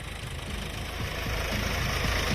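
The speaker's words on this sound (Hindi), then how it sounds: "ट्रैक्टर चल रही है" A tractor engine runs steadily in a sunlit farm field during harvest in Sikandrabad, Bulandshahr, a continuous close diesel rumble with a knocking idle throb and no voices.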